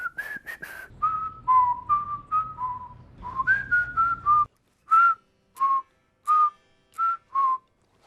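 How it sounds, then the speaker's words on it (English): People whistle a short five-note tune, clear and close, the phrase repeated several times with brief pauses between the notes. "by the end of it, everyone's whistling the 5 notes"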